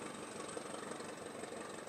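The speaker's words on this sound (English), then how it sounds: "Electro, you probably can't hear me over the noise of the engine of the thumper" A preserved Thumper diesel multiple unit runs its engine with a steady, even drone and a faint knocking texture, heard alone at moderate level.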